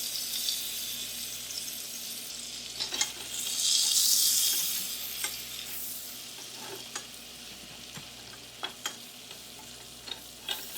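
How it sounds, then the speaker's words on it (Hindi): Flour roasting in melted butter in a pan, a continuous soft sizzle with a brief louder hiss swell and repeated light scrapes and taps of a spoon stirring. "फ्लावर को रोस्ट करेंगे"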